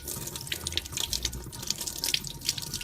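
Paintbrush rinsed under a running tap at a sink, a steady close splashing rush of water with small drips and bursts, continuous and alone without talk.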